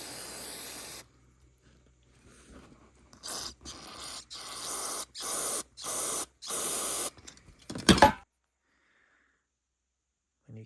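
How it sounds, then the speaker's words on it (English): Carb cleaner hisses in several short bursts through the pilot jet of a Honda CRF230 carburetor, each spray a close sharp blast separated by silence, ending with one louder spurt. "Then we can clean it out with some carb cleaner."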